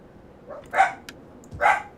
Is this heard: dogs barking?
yes